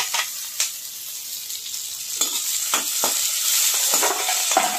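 Chopped capsicum, onion and tomato fry in a pan with a continuous close hiss, punctuated by several sharp spatula taps and scrapes at uneven intervals, no speech.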